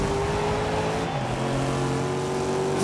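A Corvette race car's engine revs hard in the racing game GRID (2019), a loud, continuous engine drone whose pitch shifts as it accelerates, with no talking over it.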